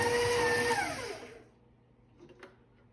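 Vegan chocolate chips are mixed into gluten-free, dairy-free cookie dough by a whirring mixing appliance that winds down and falls silent partway through, followed by a few faint clicks and knocks nearby.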